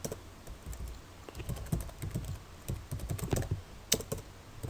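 Steady close typing on a computer keyboard, a quick run of key clicks as a comment form's name, email and website fields are filled in, with no voices.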